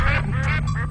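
A duck gives one short, loud, nasal quack, close by and on its own.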